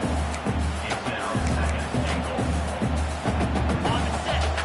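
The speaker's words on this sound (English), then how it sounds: "This crowd is trying to inspire this defense to make a big red zone stop" A stadium crowd roars at a college football game as the defense tries for a red zone stop, a loud, continuous wash of cheering with a rhythmic pulse, under a commentator's voice.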